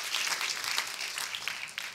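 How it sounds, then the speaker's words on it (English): A short burst of audience applause at an education forum, with individual claps standing out in an uneven, lively patter that fades quickly. "Let me give you a round of applause for just being in this space."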